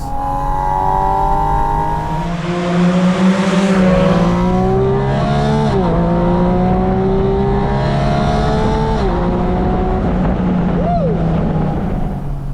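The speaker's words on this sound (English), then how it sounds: "The suction translates to intake noise, translates to exhaust noise as you get higher up in the power band." A Porsche Boxster Spyder RS engine howls loudly, intake and exhaust at high revs, its pitch climbing through the revs in repeated rising sweeps with brief dips at each shift.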